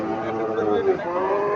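A cow at a cattle market gives a low, drawn-out moo lasting over a second, close and fairly loud, with a faint murmur of the crowd around it.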